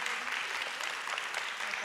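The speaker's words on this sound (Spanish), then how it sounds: "un aplauso, por favor, para la conferencista" Audience applause at a Spanish-language conference on collective care organization, a steady dense wash of many hands clapping without pause, fairly distant and even in level.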